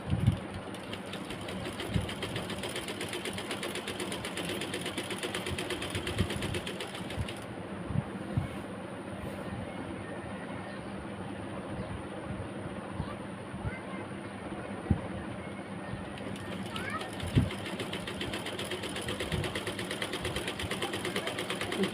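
Sewing machine stitching lace along one side of a blouse, a fast continuous whirring chatter with brief pauses and a few knocks, close, with a voice talking over it at times.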